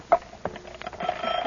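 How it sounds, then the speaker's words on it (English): An alarm clock goes off in a radio drama: a few sharp clicks and taps, then a steady ringing tone that grows and carries on to the end, with no speech over it. "Well, I'll set the alarm."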